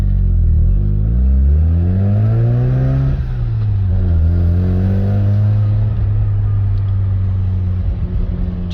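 1989 Mazda RX7 Turbo II rotary engine revving at close range, the loud drone rising and falling through two sweeping revs before settling to a steady idle, with turbo spool accompanying the climbs.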